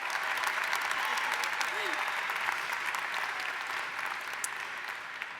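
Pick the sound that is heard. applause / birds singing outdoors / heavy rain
applause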